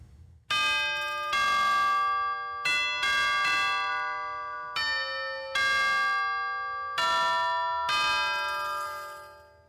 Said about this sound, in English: these are the chimes, and Brad's going to play a little bit from